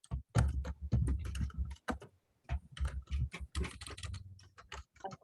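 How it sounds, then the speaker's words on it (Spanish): Computer keyboard typing heard during an online class, a close, irregular run of clicking keystrokes in quick bursts with brief pauses and no talk. "A Julio se le escucha con el teclado."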